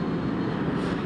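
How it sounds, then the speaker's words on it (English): The engines of Air Force One, a massive jet aircraft, roar in a loud, steady, broadband rumble with no break, close by and without voices. "I don't know if you can hear the sounds of the engine. It's quite loud."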